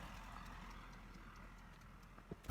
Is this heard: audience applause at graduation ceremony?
no